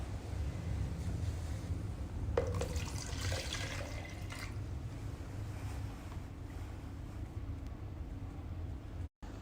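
Water being poured into the tank of a CTM27 RF cavitation cryolipolysis slimming machine, a steady rushing wash with a brief louder splash early on, close and continuous with no talk.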